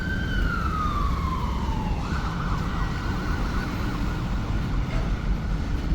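An ambulance siren wails loudly and continuously on Broadway in Vancouver, its pitch sweeping down and then switching to a steady tone, with traffic noise beneath.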